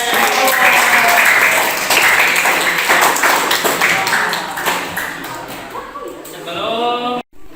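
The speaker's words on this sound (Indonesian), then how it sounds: "tepuk tangan untuk kita semua" A class of students claps together in sustained, fairly loud applause that tapers off toward the end, with a brief tapping sound and some voices near the close.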